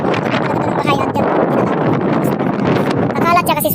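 Strong wind buffets the microphone outdoors in a farm setting with goats and sheep, a loud continuous roaring rumble with gusty surges, and faint voices underneath.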